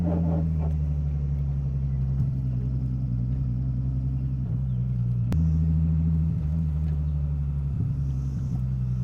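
A Nissan Laurel with a swapped RB25 Neo engine and big single turbo idles steadily, a deep, even rumble that carries throughout with small fluctuations and no talking.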